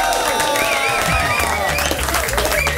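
A large crowd at a live DJ set applauds loudly and steadily, dense clapping mixed with cheering, with music tones running underneath throughout.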